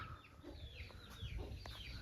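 A rooster clucks in short soft bursts near the microphone in a Punjab farmyard, several quick throaty calls over faint background noise.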